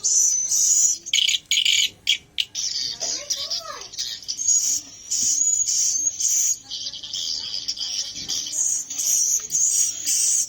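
A recorded swiftlet lure call of the ST roosting type plays as dense, high, rapid chirping and twittering that runs almost continuously at steady loudness. A brief lower squeaky sweep cuts in near the third second.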